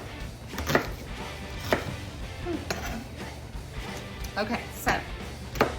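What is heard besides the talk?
knife chopping an onion for salsa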